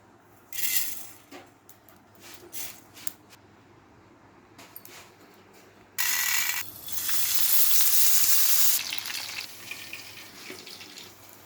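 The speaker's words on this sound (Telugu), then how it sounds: "పావు కిలో పల్లీలు వేయించుకోవాలి" Peanuts, a quarter kilo, frying in a pan for an ivy gourd chutney, with bursts of loud sizzling and stirring that swell sharply midway and then ease, no voices.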